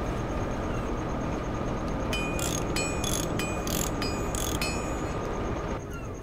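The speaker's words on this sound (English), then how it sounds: "Five turns of his trusty wrench later, and it's good to go." A wrench turning in the video game Lost Odyssey, heard as a quick series of about five bright ratcheting bursts over a steady mechanical hum, fairly close and alone without voices.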